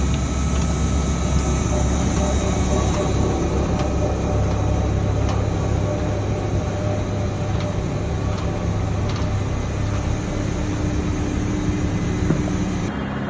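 A bio solids sludge centrifuge spinning at around 2,500–3,000 RPM, a loud, steady mechanical drone with a constant hum and no pauses.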